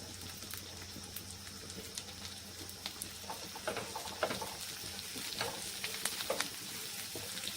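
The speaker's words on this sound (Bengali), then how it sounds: "ক্যাপসিকামটা খুব ভালো করে ভাজতে হবে একটু পেঁয়াজের সঙ্গে।" Sliced capsicum fries with onions in a pan for a potol bhorta dish, a steady low sizzle with scattered pops and stirring scrapes heard up close and fairly quiet.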